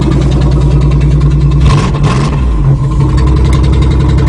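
A Chevy engine runs loud and close after a cold start, idling roughly with a knock or misfire, and the revs briefly rise and fall midway through.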